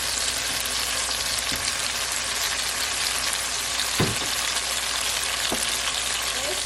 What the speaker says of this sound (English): we're just going to saute the onions and the tomatoes and the saltfish